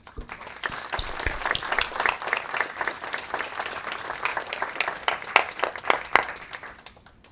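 Audience applause at a VA Northeast Ohio Healthcare System quarterly awards and recognition ceremony: a modest indoor crowd claps steadily for several seconds, individual claps distinct, fading out at the end.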